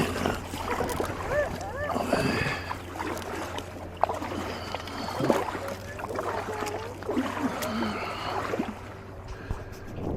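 An Itiwit X100 canoe is paddled across open water on the Norfolk Broads, with soft splashes and strokes mixed with wind buffeting the microphone while people talk and a child chatters nearby.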